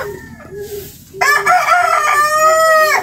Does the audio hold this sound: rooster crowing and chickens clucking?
yes